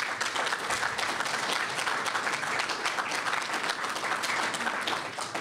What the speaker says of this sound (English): If we could give our panel a round of applause.